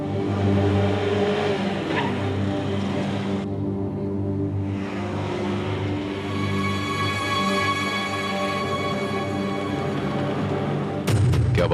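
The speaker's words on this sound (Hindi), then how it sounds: "ये गाड़ी जो अभी अभी में क्रॉस करके गई है" A car drives past on a street, its engine noise loud and steady for several seconds over a dense background hum, with a brief sharper burst near the end.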